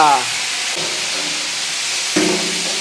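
Ginger and garlic sizzle in hot oil for a large batch of misal tadka, a loud, continuous frying hiss with a couple of sharper bursts as ingredients hit the pan.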